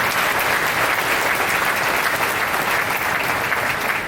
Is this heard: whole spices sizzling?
no